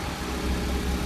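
Steady close-up idle of a 2004 Honda Civic engine just back from a head gasket repair, an even, loud rumble with no voices.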